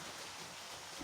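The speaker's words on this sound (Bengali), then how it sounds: "বাইরে মুষলধারে বৃষ্টি হচ্ছে," Heavy rain pours outside a village kitchen as a dense, even hiss of falling water, faint and continuous with no talk over it.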